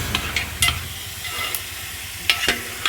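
Chicken pieces frying in hot oil for Mughlai chicken gravy, giving a steady low sizzle with short bright crackles and stirring scrapes, close and alone.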